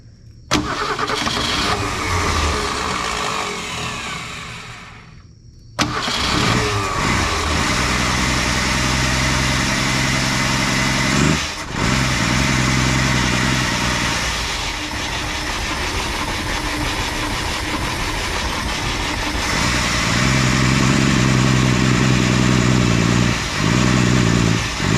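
A 1968 Ford Falcon engine cranks, then catches after a brief pause and settles into a steady, loud idle that runs on with slight rises in revs, close by and without talk.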